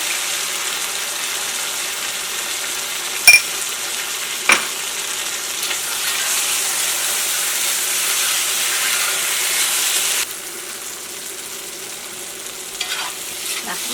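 Steady sizzling and hiss of raw banana stir-frying in a pan with dried red chillies, with a couple of sharp utensil clicks against the pan early on.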